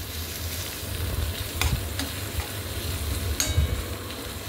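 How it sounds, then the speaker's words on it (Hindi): Onions being lightly fried and stirred for khasta onion parathas, a soft steady sizzle with low scraping stir strokes and a couple of sharper clinks from the spatula, close and continuous. "प्याज भून गए, हल्के हाथों से हिला हिला के भूनना है।"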